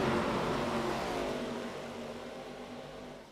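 ARCA stock cars roar past at the 2.5-mile Daytona Super Speedway, a loud, dense engine blare that slowly fades as the pack pulls away.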